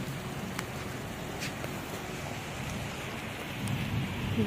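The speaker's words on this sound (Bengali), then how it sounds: "তো দেখো এখনো বৃষ্টি পড়ছে" Steady rain pours down on an open rooftop during a cool, wet day, a dense continuous hiss with scattered louder drops and patter, swelling slightly toward the end.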